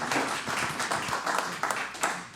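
Scattered applause from attendees at a St. Cloud city council meeting: a brief patter of claps of mixed strength, fairly close, easing off toward the end.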